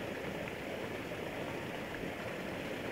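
Water pours steadily through the inlet into a freshly dug earthen farm tank after heavy rain, a continuous close rushing and splashing with no voices.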